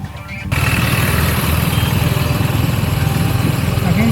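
A TVS Apache RR310 motorcycle engine runs loud and close, its steady throbbing drone rising sharply after a brief quieter moment as the rider shifts into second gear and rides on at low speed.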